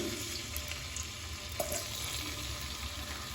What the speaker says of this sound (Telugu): ఆయిల్ కూడా బాగా వేడైంది ఇప్పుడు ఆలుగడ్డ ముక్కలు అయితే వేసుకోవాలి